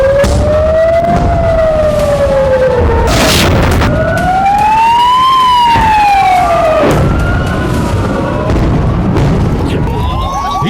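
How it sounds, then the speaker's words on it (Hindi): A wailing alert siren sweeps up and down in long, loud cycles over a night sky of rockets and missiles. Heavy booms and explosion bursts break in partway through. "कलेजे को चीर देने वाली अलर्ट सायरन की आवाज।"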